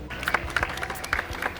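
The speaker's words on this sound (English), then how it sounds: "That is a round of applause for the sea shanty." A crowd applauds a sea shanty aboard a large wooden sailing ship arriving in London by Tower Bridge; brief, fairly light clapping with a few sharper claps standing out.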